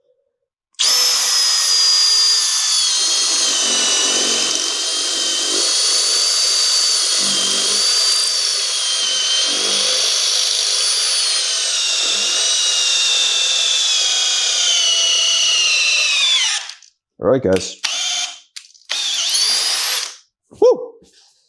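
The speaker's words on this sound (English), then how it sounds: "So let's get drilling and then we'll get screwing." A power drill whines steadily as it bores into wood for about fifteen seconds while anchoring home gym equipment, then stops and gives a few short bursts while a voice speaks briefly.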